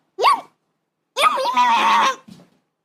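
Young children imitate cats meowing on a birthday voicemail: a short high mew, a pause, then a longer drawn-out wavering meow, with a faint trailing sound after it, heard close and clear.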